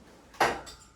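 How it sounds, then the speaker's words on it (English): A single light metallic clink as a metal pin falls out of a DIY plate-loaded iso-lateral high row machine, sharp and brief, with a faint second tap just after, close by in a quiet room. "So what that sound was this pin falling out."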